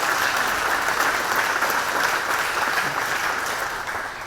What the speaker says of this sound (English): Yes, please give him a warm applause.